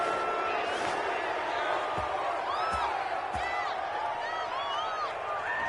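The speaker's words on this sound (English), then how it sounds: "Well, this crowd does not like that call." A stadium crowd roars in sustained disapproval after a penalty call in a PS4 American football game, a dense, loud wash of jeers and whistles with a few thumps underneath.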